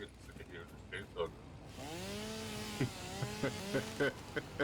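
A chainsaw in the video game Satisfactory starts up partway through and runs with a wavering buzz, rising in pitch, while sharp clicks and knocks sound over it.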